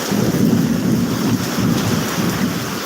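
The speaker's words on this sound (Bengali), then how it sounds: "মুসলধারে কিন্তু বৃষ্টি পড়তেছে" Torrential rain pours down during a violent thunderstorm in Bagha, Rajshahi, a dense, loud and continuous roar with deep rumbling underneath that holds steady throughout, with no voices.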